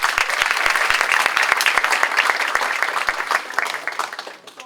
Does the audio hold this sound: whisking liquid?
no